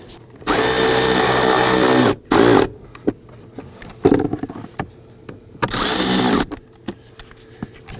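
A power drill drives screws during cabin air filter work on a 2001-2009 Volvo S60, with loud whirring bursts of about one to two seconds separated by quieter handling clicks and knocks.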